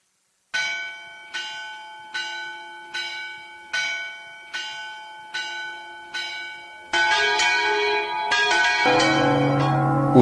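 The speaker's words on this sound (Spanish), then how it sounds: "Un día, la campana de la iglesia repicó a muerto." A church bell tolls for the dead, eight slow, evenly spaced strokes ringing clear and loud with long decaying hum, then a denser clangor of several bells overlapping at the end.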